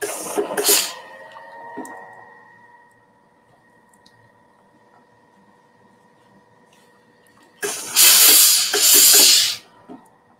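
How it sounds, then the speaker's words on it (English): A steam iron releases loud hissing bursts of steam while pressing the binding on a bathing suit cover-up, one short burst at the start and a longer, stronger one near the end, with a quiet steady tone between. "So I'm going to give it a little steam."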